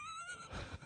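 A person imitates a horse's neigh during a comedy podcast, a short, quiet whinnying vocal trill with a breathy rough ending.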